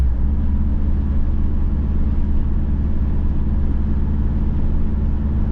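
A Subaru engine idles smoothly after its idle air control valve was cleaned, giving a steady, close, even low drone with no stumbles, heard alone without any talk.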